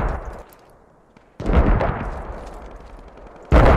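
Mortar rounds fire in a Squad battle, with a loud boom, a quieter gap, a second heavy blast rumbling away, then another sharp report at the very end.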